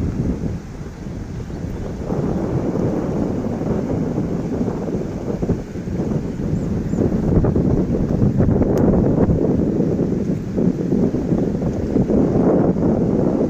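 Floodwater released from the Girna dam pours across a bridge in a steady, broad rushing roar that swells slightly midway, buffeted by wind gusts against the microphone.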